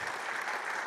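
Audience at a forum applauding the Secretary of Agriculture; dense, steady clapping from a crowd that holds evenly through the whole moment with no pauses.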